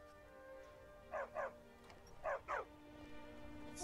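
A dog in the video game Skyrim barks in two quick pairs of yips, faint and somewhat distant over a steady low game hum.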